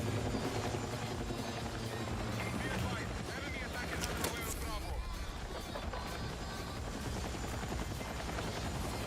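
An enemy helicopter in Battlefield 6 thrums steadily throughout, its loud continuous rotor wash mixed with battlefield noise and occasional distant gunfire.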